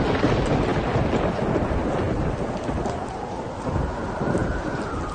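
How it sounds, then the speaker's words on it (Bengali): A thunderstorm with strong wind roars continuously: a broad, heavy wash of rain and gusting wind with deep rumbling thunder beneath, loud and unbroken throughout, with no voices. "হঠাৎ করে প্রচণ্ড ঝড় ওঠে, চারিদিকটা অন্ধকার হয়ে আসে আর প্রবল হাওয়া বইতে থাকে।"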